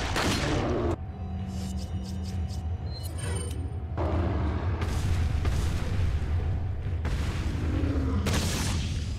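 In Resident Evil 4, a flash grenade goes off against parasites as a loud, sharp burst that gives way to a sustained roar and hiss, with more heavy blasts following.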